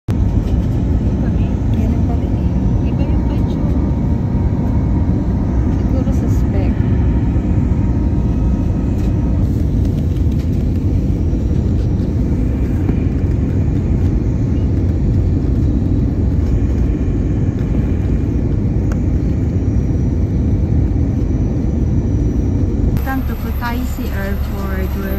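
Loud, steady cabin rumble inside an airliner just after landing at Kutaisi Airport, Georgia, a continuous low roar with a shift in tone near the end.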